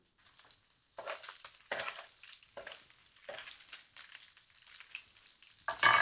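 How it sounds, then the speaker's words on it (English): Pad thai being stir-fried in pork fat with tofu in a hot pan, a soft crackling sizzle with repeated scraping stirs, close but fairly faint. "Let that cook in the pork fat for a minute."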